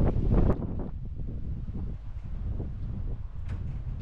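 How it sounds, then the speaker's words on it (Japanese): Strong wind buffets the microphone at the Niji no Matsubara lookout, a loud rushing roar with a burst of gusting at the start, then a steady rumbling blow. "風が少し強いですが"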